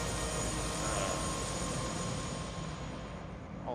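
A helicopter in flight in the video game Prey, a constant broadband rotor and engine roar that holds steady throughout, then eases slightly toward the end.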